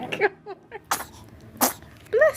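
A baby gives a few small sneezes, short bursts spread through the clip, close and moderately loud, mixed with soft infant vocal sounds.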